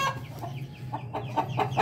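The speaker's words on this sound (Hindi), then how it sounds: "ये देखो ये सबसे बेस्ट मुर्गा मेरे शेड का" An Aseel rooster in a shed gives a quick run of close, rhythmic clucks, getting louder toward the end, with no talking.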